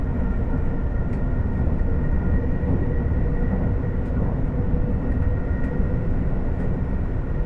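A Class 802 train running in Train Sim World 6 produces a steady low rumbling drone with a faint whine overhead, plus occasional light clicks from the rails, continuous and close.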